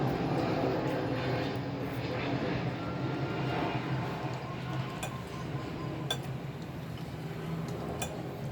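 An airplane near an airport fills the air with a steady, broad jet rumble that slowly fades, with occasional light clinks of dishes and cutlery close by.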